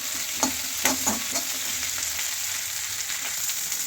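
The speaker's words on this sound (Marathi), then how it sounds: "कांदा मी व्यवस्थित चमच्याने हलवून घेतलेला आहे" Onion and tomato frying in oil with cinnamon and cloves, a steady close sizzle broken by several spoon scrapes and stirring clicks in the first half.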